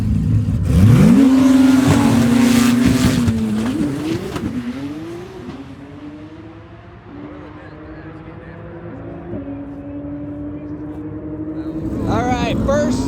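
A Nissan GT-R race car at the TX2K drag racing event revs loudly and accelerates, its engine pitch climbing, then settles into a lower drone before another hard surge near the end.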